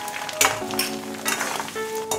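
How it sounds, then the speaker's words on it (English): Pepper is added to hot oil in a pan on a low stove flame and sizzles steadily and fairly loudly, with a few brief bursts of crackling. "So I'm adding 1/8 cup of pepper to this oil."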